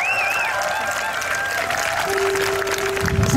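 Audience applause at an outdoor city anniversary music festival in Suncheon, a broad wash of clapping with crowd noise, sustained tones and whistle-like sounds over it, and a low rumble rising near the end.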